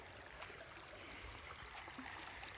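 Sespe Creek flows at the end of Grand Avenue, a faint, steady rush of stream water with a couple of small splashes and no talking.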